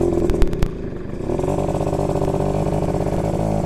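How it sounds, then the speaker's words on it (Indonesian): A cold Yamaha V80 motorcycle engine idles and runs steadily close by after a few sharp knocks at the start, a loud continuous two-stroke buzz with no voices. "Mesinnya masih dingin"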